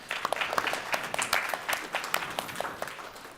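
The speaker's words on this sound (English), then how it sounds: "Round of applause." Audience applause at a finance and banking panel event, a steady patter of many hands clapping throughout, moderately loud with no speech over it.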